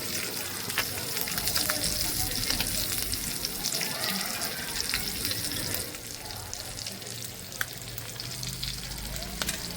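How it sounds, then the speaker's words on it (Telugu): Fresh curry leaves frying in a pan for a bangda fish curry, a dense, close sizzle with intermittent stirring scrapes, steady and moderately loud, with no speech. "దీంట్లో పచ్చి కరివేపాకు వేసి ఫ్రై చేసుకుంటే బాగుంటుంది"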